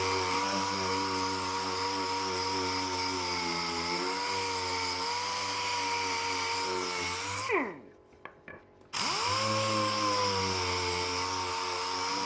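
A power sander smooths off drill-bit burrs on wood in a workshop, giving a steady close whine and rub that halts briefly midway, then starts up again.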